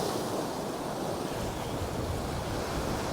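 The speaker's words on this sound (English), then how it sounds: "still are a couple of larger sets of that residual groundswell from that northerly coming in" Groundswell waves break on a rough, rocky Northumberland shore, a steady dense wash of surf rolling on without pause, with some wind noise buffeting the microphone.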